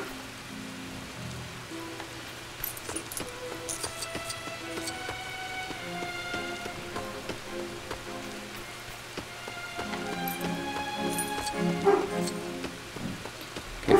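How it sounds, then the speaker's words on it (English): Rain falls steadily in a Lego Hobbit video game, a constant patter over the whole stretch while soft musical tones rise and fade above it. "Even the rain effects look better than Lego the Hobbit."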